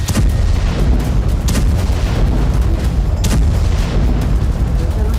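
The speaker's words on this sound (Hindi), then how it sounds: "शाफराम शहर में इजराइल ने हमास के रॉकेट को इस तरह से इंटरसेप्ट कर लिया" Rocket interceptions over Shefa-'Amr during a Hamas attack on Israel, a string of heavy booms and cracking blasts, loud and rapid over a constant rumbling background.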